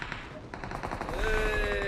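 Firecrackers and fireworks at a birthday celebration crackle in rapid, dense bursts, close and loud, with a rising whistle of a rocket joining partway through.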